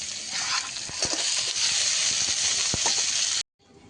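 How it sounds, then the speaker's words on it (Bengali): Boiled crabs fry in hot oil with a loud, dense, unbroken sizzle and a few faint pops, which stops abruptly near the end and leaves a quieter hiss. "একটু ভেজে নেওয়ার পরে যে কাঁকড়াগুলো সিদ্ধ করে রেখেছিলাম সেগুলো তেলে দিয়ে দেবো।"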